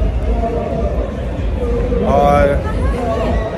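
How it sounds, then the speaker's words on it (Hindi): Crowded cafeteria full of overlapping voices, a dense steady hubbub of chatter with one nearer voice briefly rising above the babble. "कैफेटेरिया में हो रही है बहुत ज़्यादा भीड़।"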